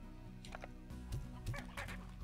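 Chickens cluck repeatedly in the farming video game Slime Rancher, a few short, moderately loud calls over steady in-game background sound.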